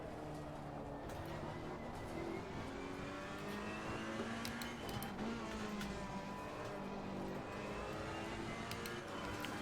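A Ferrari race car engine in the racing game Assetto Corsa Competizione drones steadily throughout, revving up and down through the gears with faint tire and track noise, no voices.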